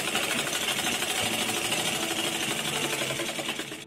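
A sewing machine stitches a folded fabric hem for a step skirt in a steady, rapid mechanical chatter, close and continuous for a few seconds before slowing at the end, no voices.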